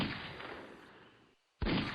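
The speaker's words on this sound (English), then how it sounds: "We could hear the guns go booming" Civil War gunfire booms in a staged battle effect: a heavy blast fades out over about a second, then after a brief silence a second loud boom cracks close by.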